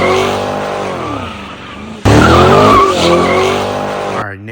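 A car fitted with custom Titan Mufflers exhaust revs hard in two loud, rising and falling bursts, each pull sweeping up in pitch before easing off, close to the exhaust.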